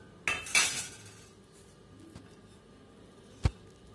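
A spoon mixing spiced chicken pakora mixture in a bowl, with a couple of clinks against the bowl early on, quiet soft mixing after, and a sharp knock near the end.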